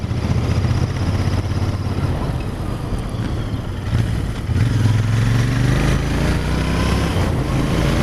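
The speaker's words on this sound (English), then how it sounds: "It's certainly got that Bonneville sound to the exhaust and the engine." A Royal Enfield Interceptor 650 engine rumbles steadily with a deep, throaty exhaust burble, close and continuous, with wind noise throughout while riding.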